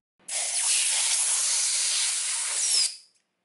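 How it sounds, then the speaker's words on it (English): Compressed air blasting from a nozzle while a rubber grip is pushed onto a tool handle, a single loud, steady hiss lasting close to three seconds that cuts off sharply, with nothing else heard. "One of the fastest ways to install a rubber grip can be done easily with compressed air."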